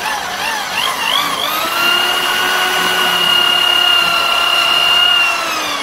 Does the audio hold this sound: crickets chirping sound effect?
no